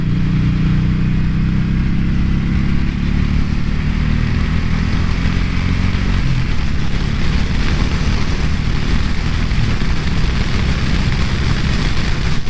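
A heavy 2018 Suzuki Boulevard M109R B.O.S.S. cruiser motorcycle, about 765 pounds, riding at steady speed, with a loud continuous low engine drone mixed with wind rush throughout, and no voices.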